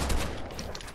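A pump-action shotgun in a video game fires a quick, sharp report that cracks close up, followed by a brief rattling tail within one second.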